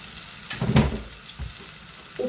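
Onions frying in oil with salt in a pan for a Kerala fish molly, sizzling close by with a few short stirring bursts over about two seconds.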